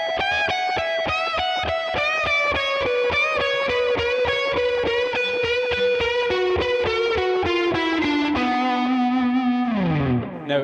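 A distorted electric guitar with chorus effect plays a fast Mixolydian lick with bends, rapid picked notes in steady succession that slide down near the end, loud and unaccompanied.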